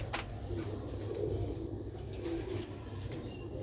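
Rooftop pigeons coo in soft repeated low phrases, close and continuous over a steady background hum with a faint flutter.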